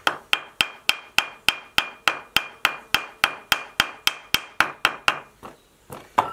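Sharp metallic hammer blows knock a bearing out of a small tractor, striking in a steady, even rhythm, about three per second, close and loud, slowing to a few final hits.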